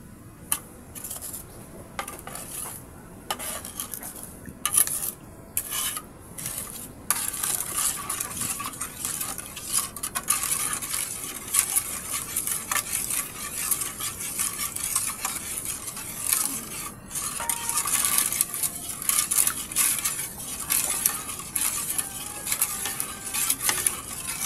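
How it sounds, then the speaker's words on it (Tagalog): A spoon steadily stirs a cheap, simple snack mixture in a pot until it melts, with constant close scraping and clinking against the pot's sides in a quick, busy rhythm and no talking. "Haluin lang natin ng haluin hanggang sa"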